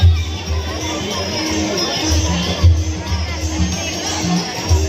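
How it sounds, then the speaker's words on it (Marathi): A large festival crowd packs a Datta temple on Datta Jayanti, with steady chatter and babble close by, children's shouts rising through it, and occasional louder bursts. "बघा किती गर्दी आहे"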